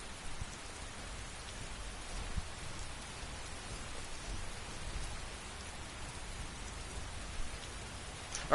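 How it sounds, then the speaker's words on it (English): Steady rain falling in the video game Skyrim, a soft, even hiss of drops with no voices, constant from start to finish. "Rain. It's very rainy."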